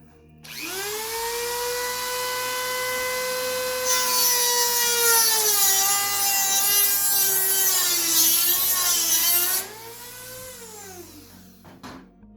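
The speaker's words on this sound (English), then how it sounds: "I'm just going to use my Dremel with a cutting disc" A Dremel rotary tool with a cutting disc grinds into a security screw, a loud, sustained high-pitched whine that turns harsher and grittier midway as the disc bites, then winds down, with no talking.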